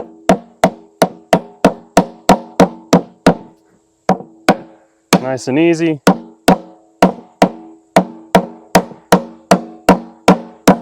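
Rapid, evenly spaced hammer blows on a wooden beehive box, loud and close, pausing briefly while a person speaks a few words, then resuming the steady pounding.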